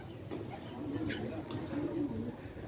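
A pet pigeon back at its home loft coos in low, soft, repeated phrases, close by, over a steady background hum.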